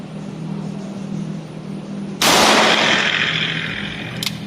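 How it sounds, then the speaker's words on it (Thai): A Smith & Wesson M10-5 .38 revolver with a 4-inch barrel fires one wadcutter round, right-handed, on a 30-metre range. A single loud sharp report cuts through a steady hum and rings out slowly, followed by a faint click. "มือขวา ยิง ด้วย ลูก วัดคัตเตอร์หัวตัดนะครับ ระยะ 30 เมตรสุด สนามนะครับ"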